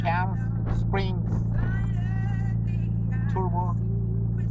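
Nissan 200SX SE-R with a swapped SR20DET engine, a GT2860RS turbo at 10 psi, and JWT computer, C1 cams and springs, humming steadily from inside the car while someone talks over it.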